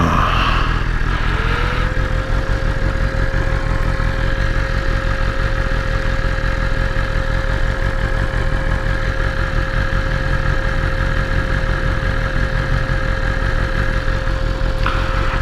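A BMW S1000RR sport motorcycle engine idles steadily and loudly up close on a cool day, holding a constant hum throughout with no revving.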